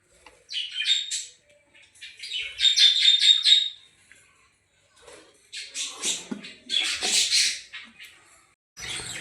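A pair of Fischer's lovebirds, one albino and one green, chirp and squawk in an aviary, loud close bursts of rapid chatter separated by short silences.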